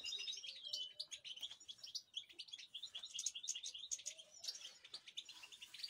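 Goldfinches in a breeding aviary chirp and twitter in rapid, continuous bursts of high, bright notes, several birds overlapping at a fairly close but soft level with no voices.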